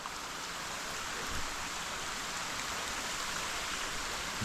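A creek flows steadily beside a rocky bushland track near a climbing spot, a dense, even wash of running water that fills the whole span close by with no pauses.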